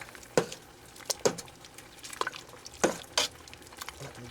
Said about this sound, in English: A little bit more parsley. Stir all that around.